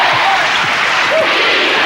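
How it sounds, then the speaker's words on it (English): A basketball crowd at a championship game fills the arena with a loud, steady roar of chanting and cheering, with a commentator's voice faintly under the din. "Defence screams the crowd."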